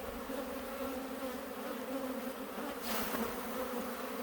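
A steady, close droning buzz of many Carniolan honey bees in a hive fills the clip, with no voices.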